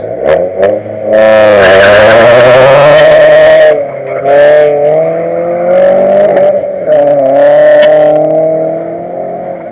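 A race car roars past on the track at the finish, its engine loud and rising in pitch with harmonic whine, then easing off as it recedes, with further engine passes and clatter following.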